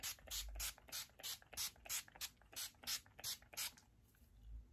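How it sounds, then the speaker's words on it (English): Be Fit setting spray misted onto a face from a pump bottle: about a dozen short, close hissing spritzes in a quick, even rhythm, then quiet. "let me spray my face with the Be Fit setting spray"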